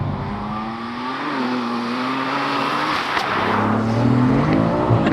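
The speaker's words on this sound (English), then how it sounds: "the tone of the exhaust is so nice as well" A tuned BMW F80 M3 with about 850 horsepower revs loudly with a throaty exhaust note, its pitch climbing and falling in smooth sweeps, close by.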